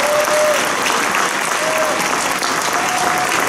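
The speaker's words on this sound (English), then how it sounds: "Let's give them a nice round of applause as well." Loud, sustained applause from an audience at an elementary school Christmas program, a thick continuous wash of clapping with crowd murmur and faint voices mixed in.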